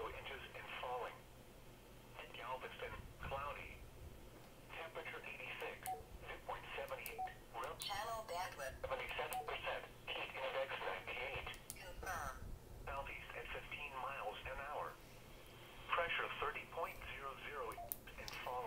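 A Baofeng UV-5R handheld radio on narrow band receives voice traffic through its tinny speaker, with bursts of transmitted speech, clicks and a constant hiss running throughout.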